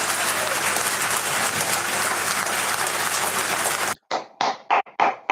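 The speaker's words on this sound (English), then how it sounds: "Clap your hands. Clap your hands." Sustained dense applause from a crowded parliament chamber fills most of the span, then cuts off abruptly into a few separate, loud, rhythmic claps close by.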